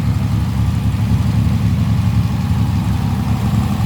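A 1938 Jaguar SS Drophead 3½ engine idles steadily at close range, a continuous low, rumbling drone with no change in pace and no voices.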